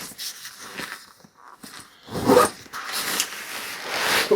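A Lowepro Flipside 400AW camera backpack being zipped closed, several close, quick zipper pulls with short rasping runs and brief pauses between them, and no voices.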